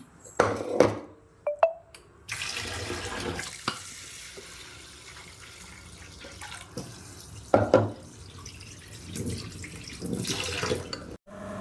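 Moong dal lentils being rinsed in water in a home kitchen: close, intermittent splashes and running-water bursts separated by quiet gaps, with a few clinks and no talking.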